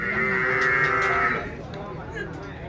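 A buffalo at a dairy farm gives a long, loud, close moo lasting over a second, then fades into faint farmyard noise.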